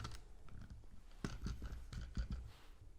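An AliExpress phone stand being unpacked, with close crinkling, scratching and tearing of packaging in irregular bursts, quiet handling in between and no talk.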